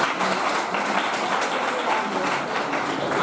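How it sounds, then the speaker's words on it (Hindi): Applause from the audience at a college annual sports prize-giving ceremony, a steady dense patter of many hands clapping at moderate volume throughout. "तालियां बजती रहे"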